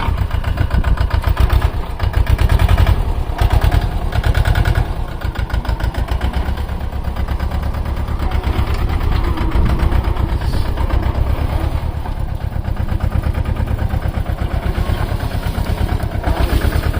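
Mahindra Yuvo 225 tractor running in a sugarcane field, its engine a loud, steady diesel chug with a fast, even pulse that holds near and constant throughout, no voices over it.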